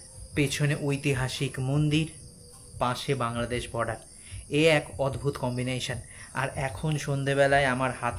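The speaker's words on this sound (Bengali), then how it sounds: "ঝিঝি পোকার ডাক" Crickets chirp at night at a rural eco resort near Kolkata, close to the Bangladesh border. Their steady, high, continuous chirring runs under someone talking close to the microphone.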